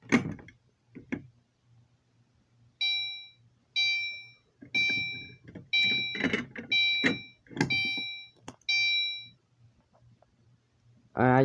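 A fire alarm on a fire alarm panel sounds in a room, a series of about eight evenly spaced electronic tone bursts with harsh harmonic ringing, interspersed with people talking and a few clunks before and after.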